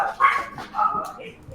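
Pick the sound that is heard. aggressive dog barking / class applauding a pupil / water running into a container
aggressive dog barking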